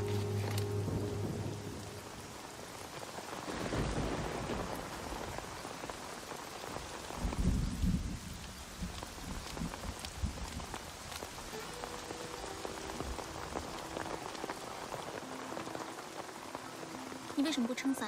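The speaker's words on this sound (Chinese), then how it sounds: "为什么不撑伞？ 下雨了。" Rain pours steadily in a movie scene, dense patter with rumbles of thunder swelling and fading across the stretch.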